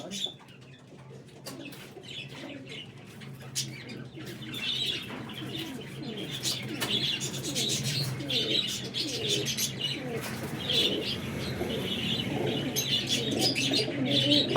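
Imamdeen flying pigeons coo in soft repeated phrases, joined by scattered chirps and a wing flutter, steady and fairly close, growing busier over time.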